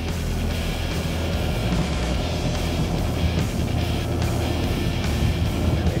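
A Mercury MerCruiser 250 boat engine with astern drive runs at steady power through a turn, a continuous loud low roar with wind and water noise and no letup.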